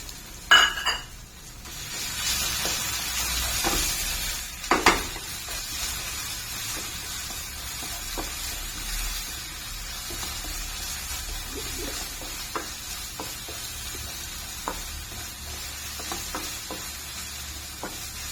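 Masala paste for prawn chilli sizzles steadily in a pan, with occasional sharp clinks and scrapes of a spoon stirring it against the metal.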